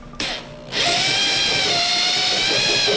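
A drill fitted with a screw extractor whirs briefly, then spins up into a steady high-pitched whine while removing a stuck bolt from a KX65 engine part, loud and close.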